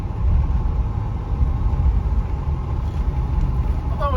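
A 1969 Lincoln Mark III with a premium-fuel 460 V8 cruising on the road, a steady low rumble of engine and road noise heard from inside the car, fairly loud and even, with no speech.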